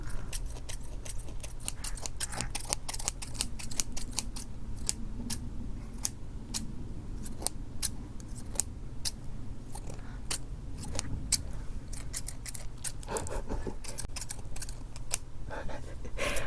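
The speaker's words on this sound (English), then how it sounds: "Some reasonably sharp old scissors." Repeated crisp snips of old scissors cutting through sheepskin, irregular but steady, close up over a low background hum.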